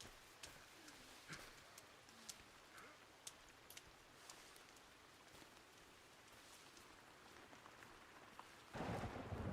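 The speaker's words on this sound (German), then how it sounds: "Oh, es donnert." Thunder rumbling during a rainstorm, soft and distant beneath a steady patter of rain with scattered sharper drops, all faint, before a louder burst of noise at the end.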